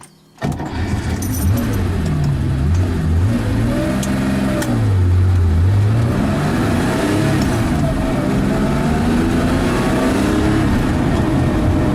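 A 1968 Porsche 911T's 2200cc flat-six engine hums and revs up and down as the car drives, with a steady rumbling tone heard from inside or close by.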